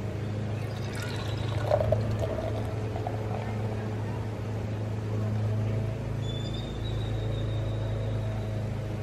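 Beer poured from a bottle into an empty, still-warm glass, a steady liquid pour running for several seconds over a low background hum, with no talk.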